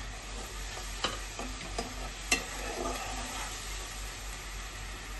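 Pieces of chhana (cottage cheese) drop into a simmering spiced gravy. A low, steady bubbling hiss runs throughout, broken by a few soft, scattered taps and clicks. The sound is quiet and close.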